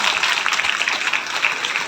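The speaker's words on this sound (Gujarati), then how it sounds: "એમના માટે પણ તાળી." Audience applause at a community organisation's Sunday gathering, dense steady clapping from many hands filling the room, loud and continuous without talk.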